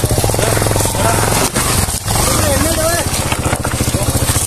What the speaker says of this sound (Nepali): फाइनली केटाहरूले बाइक निकाल्यो है